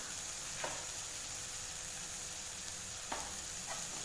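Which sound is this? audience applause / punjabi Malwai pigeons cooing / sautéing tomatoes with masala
sautéing tomatoes with masala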